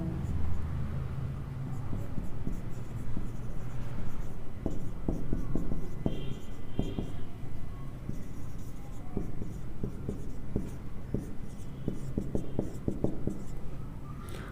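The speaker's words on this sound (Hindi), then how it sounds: "एक एग्जाम्पल लिखता हूं" A pen writes an English example sentence by hand during a vocabulary lesson, making soft, close scratchy strokes in irregular bursts over steady low room noise.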